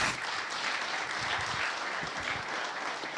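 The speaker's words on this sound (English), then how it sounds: "Let's all give them a big round of applause." An audience at a tech forum gives the panelists a sustained round of applause, thick steady clapping filling the room at a constant level throughout.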